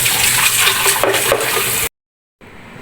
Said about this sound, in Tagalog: hugasan ng tubig yan, syempre